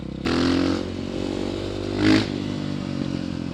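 A KTM 500 EXC-F dirt bike engine roars up with a sudden loud rev, settles into a rough idle, then gives another short sharp blip of the throttle close by, without talk.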